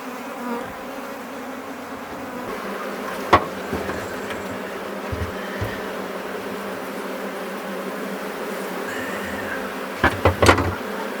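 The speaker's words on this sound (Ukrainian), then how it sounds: "Бджоли гудуть" Honeybees at a hive hum in a steady, soft drone with a few brief louder clicks and knocks, no voices.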